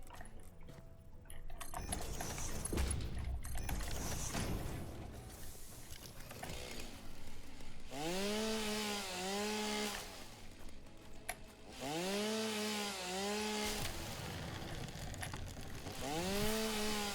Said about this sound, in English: I didn't cut anything for some reason. My chainsaw missed.